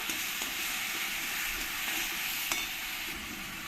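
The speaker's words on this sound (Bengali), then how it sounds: "আর এই একই সঙ্গে আমি দিয়ে দেবো গুঁড়ো মশলা, লঙ্কার গুঁড়ো দিয়ে ভালো করে কষিয়ে নেব।" Tomato paste with ground spices and chilli powder fries in a pan with a steady close sizzle, and a few faint stirring clicks sit over the hiss. No one speaks.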